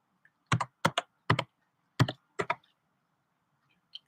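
Fast taps on a computer keyboard in a quiet room, about eight crisp, close clicks in quick clusters with short gaps between them.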